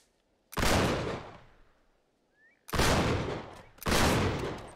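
Gunfire in Uncharted 3: Drake's Deception, three loud, close bursts of rapid shots, each one a dense blast that fades out, separated by short quiet gaps.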